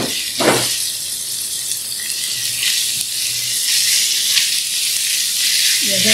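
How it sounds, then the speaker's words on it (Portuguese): Grated carrot and chopped onion sautéing in a pan, with a steady broadband sizzle that runs alone and unbroken throughout, fairly close and moderately loud. "Agora aqui eu tenho uma cenoura ralada no ralo grosso. E vamos refogar aqui também."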